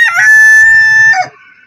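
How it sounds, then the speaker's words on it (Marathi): A rooster on a rooftop terrace lets out one loud, close crow, a long sustained harmonic call that rises, holds steady and then breaks off. There is no talking. "कोंबडा आता सुरू झाला बाग द्यायला"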